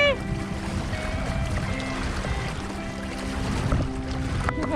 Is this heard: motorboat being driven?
yes